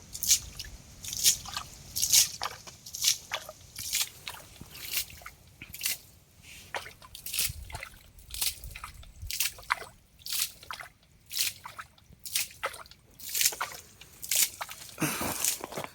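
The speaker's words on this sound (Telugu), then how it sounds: "వాటర్ని అయితే ఒక బాటిల్ సహాయంతో మేము తోడేస్తున్నాము" Water is bailed out of a small pit with a bottle, giving repeated wet sloshes, drips and squishy splashes in an irregular rhythm, close by and fairly loud.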